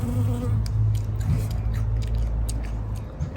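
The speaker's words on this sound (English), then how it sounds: "The bees are here. Got a lot of bees here." A low buzzing hum of bees hovering nearby in a backyard vegetable garden in spring, steady and droning with faint clicks and rustles outdoors.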